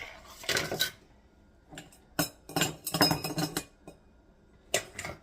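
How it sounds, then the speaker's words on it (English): Metal canning jar lids and rings clinking and rattling together in irregular close bursts, with sharp bright chinks separated by brief quiet gaps. "So now I've got the lids and rings."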